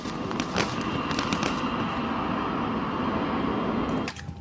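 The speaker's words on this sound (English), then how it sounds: "A GIGN man is blasted out of the plane by gunshots." Gunfire during a plane assault, heard in news footage: a few sharp, cracking shots stand out near the start over a continuous loud roar, which cuts off abruptly near the end.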